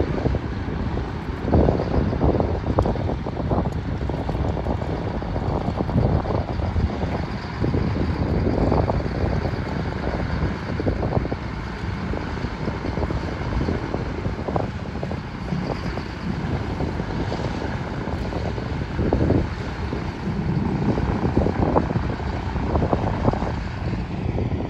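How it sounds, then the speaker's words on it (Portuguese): Twin propeller engines of a B-25 bomber running at an air show or warplane museum ground run, a loud, steady roar with buffeting wind noise throughout and no voices. "Os dois motores girando muito bonitos."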